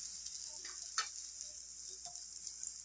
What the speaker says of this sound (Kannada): ಎರಡೂ ಕಡೆ ಕ್ಲೀನಾಗಿ ಸಿಮ್ಮಲ್ಲಿ ಫ್ರೈ ಆಗಲಿ.